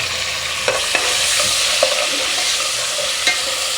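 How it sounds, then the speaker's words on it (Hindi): Chopped tomato cooking with light-brown fried onions in a pan, a steady close sizzle with a few soft clicks of a stirring spoon, no voices. "हम इसमें इतनी देर तक इसको पकाएंगे जब तक ये टमाटर अच्छे से इसमें मैश ना हो जाए।"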